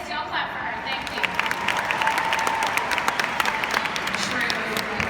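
An audience breaks into steady applause at a company gathering, a broad wash of many hands clapping with voices and cheers mixed in.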